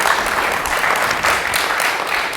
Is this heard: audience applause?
yes